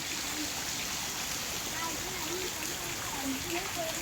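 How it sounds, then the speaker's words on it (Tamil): Heavy rain pouring steadily at night, a dense, even hiss of falling water close around, with faint scattered tones beneath and no clear talking. "இன்றைக்கி நைட்டு சரியான அப்படியே சும்மா ஒரு லெவலாக அப்படியே பேஞ்சினே இருக்குதா மழை"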